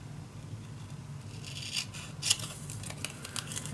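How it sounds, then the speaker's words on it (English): Scissors cut paper on a double-folio scrapbook project, making a faint, close run of crisp snips and rasping slices over a low background hum. "cutting."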